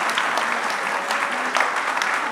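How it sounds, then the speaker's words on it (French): An audience at a brunch event at a nursing-care school in Lyon applauds, with dense, even clapping from many hands that holds steady throughout. "Alors, Michael, on l'applaudit."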